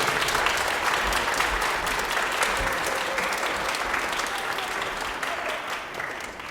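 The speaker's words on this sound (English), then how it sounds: "another round of applause for Mrs. Bell" Applause for a fourth-grade teacher at a school chapel Kwanzaa program, a dense, steady wash of many hands clapping that stays loud throughout before tapering slightly at the end.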